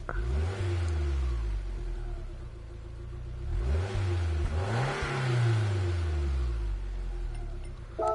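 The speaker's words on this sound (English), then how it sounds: "Very loud power steering pump." A Lancia car engine in Gran Turismo 7 hums and revs in rising and falling sweeps, with a loud, steady power steering pump whine running underneath throughout.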